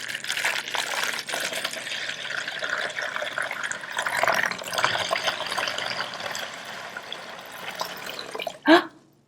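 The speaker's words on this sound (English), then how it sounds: "While I'm pouring this water into this bowl, just like a waterfall" Water pours steadily from a container into a bowl like a small waterfall, a continuous close splashing gurgle lasting several seconds, ending with a brief louder splash or clunk.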